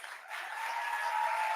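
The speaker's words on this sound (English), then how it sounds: "let's give a big round of applause to all our student poets" An audience at a student poetry event breaks into applause, a steady wash of clapping that swells and holds for a couple of seconds.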